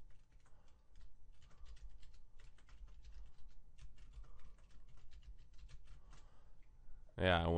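Quick, quiet typing on a computer keyboard during track labelling for a music mix, a dense pattering of key clicks that ends as a voice starts speaking.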